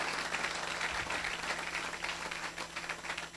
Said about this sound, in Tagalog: sige, palakpak muna, palakpak